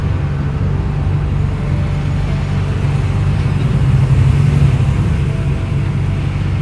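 Constant low rumble of heavy road traffic on the Paris Périphérique ring road, heard from inside a semi-trailer truck cab in congested traffic with motorcycles, a dense steady drone of engines with no voices.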